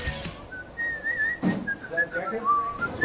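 A person whistles a wandering tune in a recording studio, the notes sliding up and down, close and clear over a soft background murmur.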